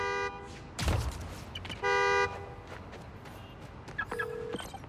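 Car horn honks from a key fob in Spider-Man: Miles Morales, a sharp burst near the one-second mark followed by a sustained honk and later a shorter tone, over ambient city game noise.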